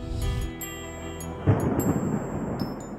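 Thunder from a dramatic storm rolls in a deep, sustained rumble with a sharper crack midway, over steady rain hiss and a faint high musical tone.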